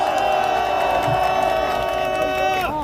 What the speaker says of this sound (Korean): 우리 당협위원장 전부에게 여러분 박수 한번